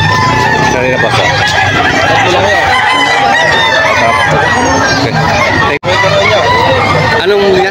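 Black Peruvian gamefowl rooster, 11 months old, crowing and clucking loudly at close range amid a babble of nearby voices and people talking.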